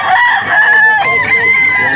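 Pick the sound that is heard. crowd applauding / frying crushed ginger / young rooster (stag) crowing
young rooster (stag) crowing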